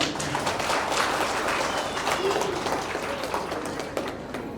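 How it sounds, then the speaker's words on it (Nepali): Wedding guests applaud at a church wedding ceremony, a dense, steady wash of many hands clapping that runs the full length without pause, with crowd voices mixed in. "हामी सबैजनाले ताली बजाउँदैछौँ"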